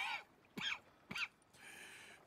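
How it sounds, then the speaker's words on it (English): Three short, harsh coughs in quick succession from a man in Red Dead Redemption 2, close and fairly quiet, followed by a faint low murmur. "That's quite a cough."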